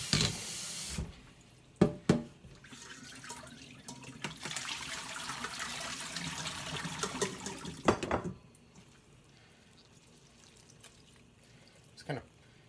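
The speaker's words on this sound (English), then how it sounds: "we're going to immediately put this into a bowl of cold water" Drained blanched spinach plunged into a bowl of cold water for Korean namul, with a short splash, then a few seconds of sloshing and swirling water, followed by quieter handling and one more small splash near the end.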